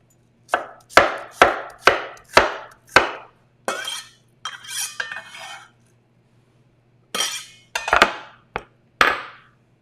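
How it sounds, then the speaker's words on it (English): Knife chopping cabbage on a cutting board, a run of sharp, evenly paced thuds, then a brief shredding rasp, a pause, and a few more chops, close and loud with no talk. "next we're gonna cut the cabbage and then the carrots"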